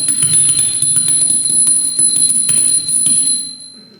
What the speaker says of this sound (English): Bell ringers were ringing,